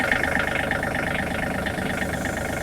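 A 2023 John Deere 3032E compact tractor idles at its lowest idle with a steady, close diesel rumble and throb, running alone with no voices.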